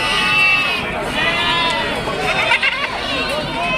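Young goats bleating at a busy goat market, several overlapping wavering cries close by amid crowd murmur and people talking.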